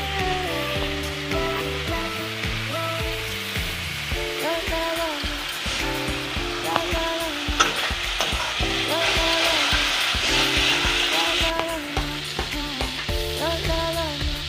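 Fish frying in a hot pan as tomato is added, a loud continuous sizzle with stirring and utensil scrapes throughout, and some higher clatter and bursts of crackling partway through.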